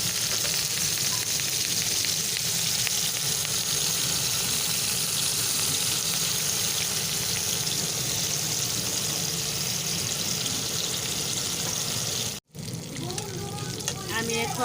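Poya fish and gourd leaf fritters frying in hot oil, a steady close sizzle that runs unbroken and fairly loud, cut by one brief dropout near the end.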